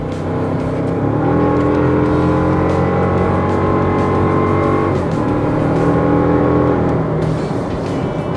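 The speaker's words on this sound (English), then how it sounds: "You can hear that turbo spooling." A 2024 Toyota Tacoma's turbocharged four-cylinder engine revs up steadily, its pitch climbing, easing off briefly, then building again with a faint turbo whine, loud and continuous throughout.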